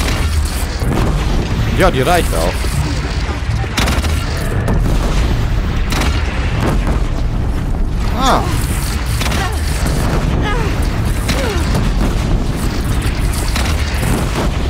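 Deep, rumbling booms of cannon fire in Horizon Zero Dawn roll repeatedly through a dense, constant game soundscape, loud and close, with someone talking in German over it.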